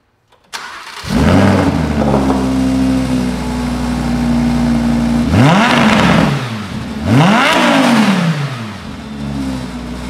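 A Lamborghini Huracan with its stock OEM exhaust starts up close by, settling into a loud steady idle before two sharp throttle blips rise and fall, then returning to idle.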